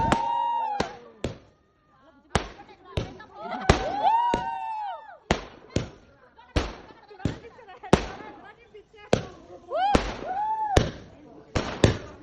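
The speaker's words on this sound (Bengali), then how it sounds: "ফায়ার ক্র্যাকার্স, এগুলো আমরা হচ্ছে আমাদের নানুবাড়ির বাইরে যে উঠানটা আছে এখানে জ্বালিয়েছিলাম" Firecrackers set off in a courtyard outside a family house during a wedding celebration: a string of loud, sharp bangs at uneven intervals, each followed by ringing whistle-like tails and echo, some close together in pairs.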